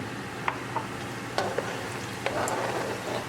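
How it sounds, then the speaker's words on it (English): Steady sizzle of almonds frying in a pan with a few sharp clicks and taps of stirring, close and moderately quiet, no voices. "As the almonds we are frying for like a minute"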